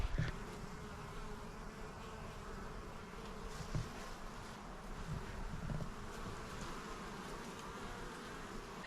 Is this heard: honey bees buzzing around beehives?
yes